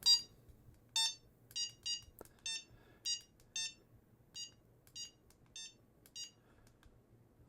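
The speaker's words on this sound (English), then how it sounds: "turn it off so you don't have to hear beeping a whole bunch" A high, thin electronic beep from a Hota T6 battery charger repeats about a dozen times at a steady pace over a faint low hum, with no talking.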